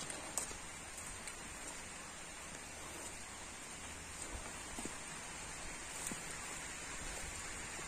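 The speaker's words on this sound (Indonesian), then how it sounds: "Dua hari diguyur hujan." Rain falling steadily over a village chili and bean garden, a soft, continuous hiss with a few faint drop taps, heard alone at low volume.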